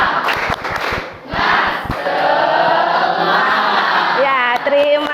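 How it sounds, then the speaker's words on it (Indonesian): A classroom of students performs a rhythmic clapping chant together, with sharp claps and loud group shouting in the opening seconds, then sustained voices and a few tonal notes near the end. "Ice breakingnya Ibu ingin kalian tepuk semangat."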